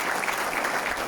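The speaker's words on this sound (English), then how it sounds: "A round of applause, please, as she comes to the stage" Applause for Mrs. Tsitsi Makova walking onto the stage at the ZESA risk management awards, a steady dense wash of clapping from an audience for just over a second, with no voices.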